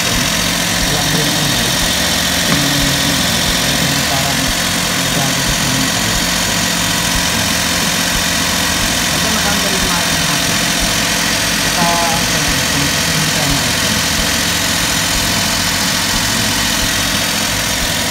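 A car engine idles steadily and loudly, a constant low rumble with vibration that never changes pace.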